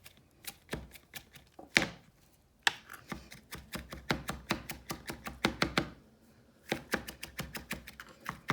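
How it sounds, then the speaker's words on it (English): A knife chopping folded fresh parsley on a cutting board, quick crisp taps in rapid uneven bursts with brief pauses between runs, close and clear with no talk. "So I fold the parsley, and then I just chop it as best as I can."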